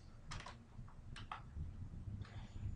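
Several quick bursts of keystrokes on a computer keyboard, close and fairly quiet, with short pauses between the clusters of taps.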